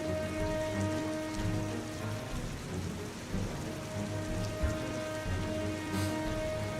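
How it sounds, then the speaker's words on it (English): Heavy rain falls in the video game Heavy Rain, a steady close hiss of drops pattering on surfaces, with a faint sustained musical hum beneath and no voices. "I'm loving this rain sound."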